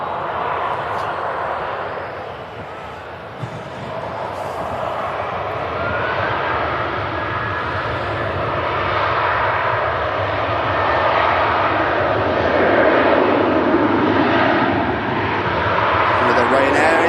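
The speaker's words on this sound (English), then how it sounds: "With a Ryanair NG with the retrofit winglets, we'll be seeing a lot more of these with them being fitted now." A Ryanair Boeing 737 NG airliner fitted with retrofit winglets at Manchester Airport gives a steady, broad engine roar that swells gradually, with faint voices in the background.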